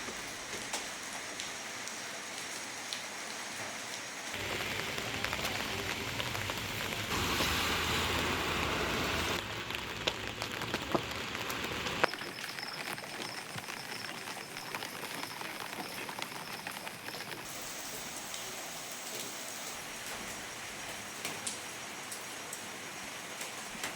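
Steady early-morning unseasonal rain pours down in Aravalli district, Gujarat, a dense hiss that swells heavier in the middle and continues without pause; no voices.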